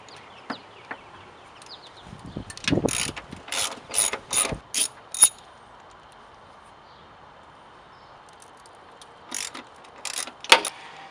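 Ratchet wrench clicking as it backs out 13mm bolts from a Jeep tailgate while fitting a Teraflex Alpha HD hinged spare tire carrier; several quick bursts of ratcheting, a pause, then two more short bursts, close and clear.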